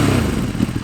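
Ducati Streetfighter V2 motorcycle fitted with a matte black MIV exhaust with carbon end cap, its engine revving with a rough, throbbing low rumble, close and steady throughout, with no talk.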